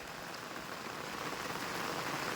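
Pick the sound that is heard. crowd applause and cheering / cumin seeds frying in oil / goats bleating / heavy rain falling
heavy rain falling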